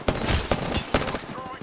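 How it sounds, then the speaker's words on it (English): Gunfire in a video game crackles in three sharp, rapid bursts over a short stretch of battle noise. "Opening fire on the enemy."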